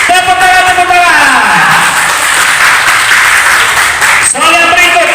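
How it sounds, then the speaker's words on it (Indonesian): Audience applause at a school quiz competition (TPA quiz contest, district level), a steady wash of clapping that swells and holds under a tonal hum and a voice, with a brief dip near the end. "Tepuk tangan, tepuk tangan."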